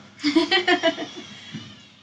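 A person imitates a cat with a run of five quick, voiced meow-like calls close to the microphone, followed by a softer trailing sound, in a room during a casual chat.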